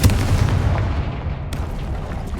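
Confringo fire spell blasting in the Hogwarts Legacy video game, a heavy booming burst that opens loud and then rolls into a dense, rumbling low-end decay over a couple of seconds.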